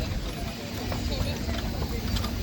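A cock horse's hooves clip-clop steadily at a steam and country show, heard amid outdoor fairground noise with a voice talking over them.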